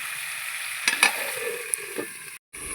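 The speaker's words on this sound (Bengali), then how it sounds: "এবার সিম আলুটাকে আমি ভালো করে ভেজে নেবো লাল লাল করে।" Broad beans and potatoes fry in a pan with a steady close sizzle, broken by a few brief stirring scrapes and clinks, then a short cut to silence before the sizzle returns.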